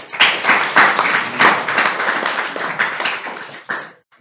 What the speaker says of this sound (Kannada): ನೋಡ್ರಿ ಒಂದು ಚಪ್ಪಾಳೆ ಖುಷಿಯಾಗಿ